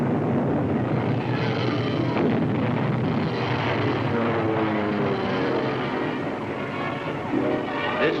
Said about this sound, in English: Jap units and American bombers joined the battle.